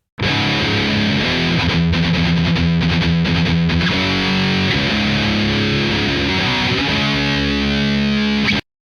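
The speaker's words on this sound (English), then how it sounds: "in this rhythm guitar with a different tone" Distorted electric guitar strums a chunky rhythm pattern, loud and continuous, with chord changes throughout and no voices.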